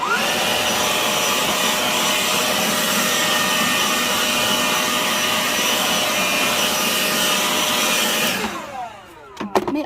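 A Total TABLI2002 electric leaf blower runs loud and steady at close range, a constant rushing whine of air clearing soil, then cuts off near the end, leaving a few brief knocks.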